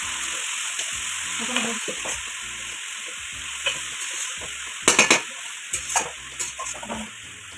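Chopped ponka greens (a leafy vegetable) fry and sizzle in a pan, a steady close hiss under which a spoon stirs and scrapes, with a few louder clattering stirs near the end.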